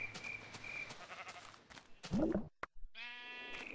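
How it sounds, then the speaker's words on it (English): A sheep bleats several times in the Minecraft Tekkit game, with a loud, close, wavering bleat near the end after scattered game noises. "See, there's a black sheep."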